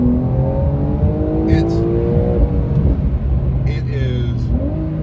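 A Porsche 911 (992) in Sport mode accelerates hard on cold tires, its engine note climbing through rising revs with a shift or two, heard loud from inside the cabin.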